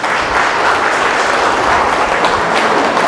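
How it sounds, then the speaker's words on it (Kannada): An audience at a parents' event in Yelahanka bursts into sustained applause, a dense, loud wash of many hands clapping together for the full few seconds, with no speech over it. "ಒನ್ಸ್ ಅಗೈನ್ ಚಪ್ಪಾಳೆ ತಟ್ಟಿ"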